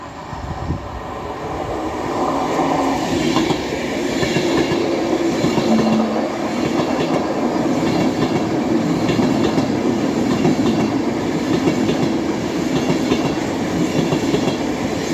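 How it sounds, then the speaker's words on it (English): An Avanti West Coast Class 390 Pendolino electric train runs through Cheadle Hulme on the West Coast Main Line, a loud, steady roar of wheels and rushing air swelling up within the first two seconds and holding close and strong throughout, with no speech. "The next train to be coming through will be another Avanti West Coast Class 390 running from Manchester Piccadilly to London Euston."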